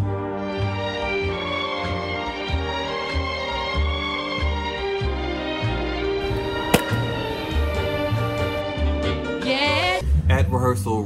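A group of people sings together in the background during a play rehearsal, their sustained, harmonious voices carrying steadily and somewhat distantly for the whole stretch.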